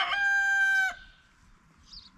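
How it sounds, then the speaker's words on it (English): A rooster crows once, loud and close, with a strong harmonic call lasting about a second before fading into quiet farmyard background on a winter day. "Yes, Rooster, we hear you."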